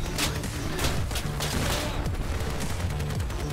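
Dense, continuous gunfire and weapon blasts fill a vehicle battle in the Crossout video game, shots overlapping with booming impacts throughout at steady, loud level, with no talk.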